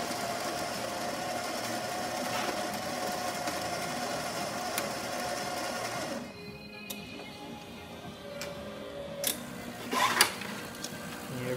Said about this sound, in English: working good, but we'll pull a shot.